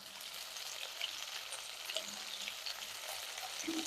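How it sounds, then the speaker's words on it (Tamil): Garlic and ginger fry in a pan for a meat curry, giving a steady close hiss of sizzling oil throughout with a few faint stirring scrapes and no talk. "பூண்டும் இஞ்சியும் போட்டேன் இது நல்லா வணங்கட்டும்"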